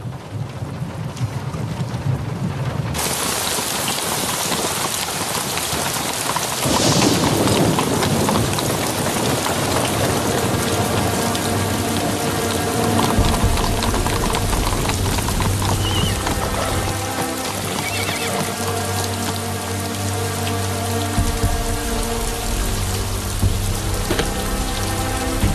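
Steady heavy rain pours on a surface throughout, loud and continuous, with a horse neighing and hooves clip-clopping mixed in.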